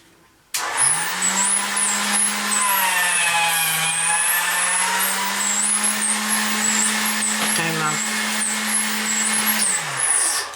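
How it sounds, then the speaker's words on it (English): A motorized Atlas pasta machine set to number 1 runs as polymer clay is rolled through it, giving a steady close electric motor whine and hum that holds for about ten seconds before cutting off. "I'm going to run it through my pasta machine, which is an Atlas, on a number 1. And it has a motor"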